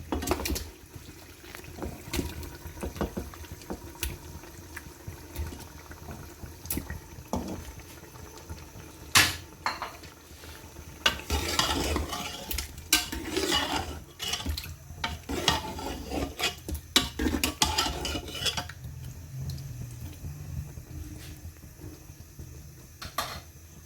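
Chicken being dropped into a pot and stirred for Karachi-style biryani, with scattered clatters, knocks and wet sloshing scrapes, a busier burst of stirring midway, and a faint simmering background.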